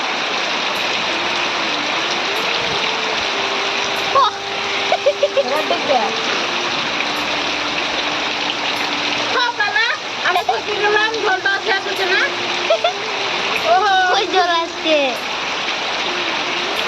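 Rainwater floods a home courtyard while water runs from a pipe, a steady broadband flowing wash under heavy rain, with people talking over it in bursts.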